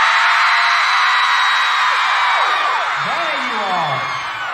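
Concert crowd at a show in Cincinnati screaming loudly and continuously, a dense sustained roar of many voices with rising whoops and yells cutting through toward the end.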